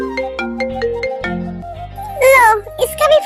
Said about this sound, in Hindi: लो, इसका भी फोन आ गया।